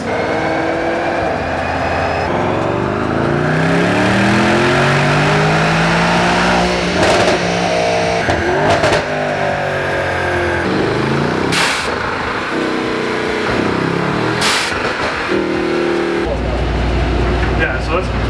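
A Mercedes-Benz E63 S runs on a dyno, its engine roaring loud and close as the revs sweep steadily upward, then rise and dip through several surges. Voices talk intermittently over the constant engine noise.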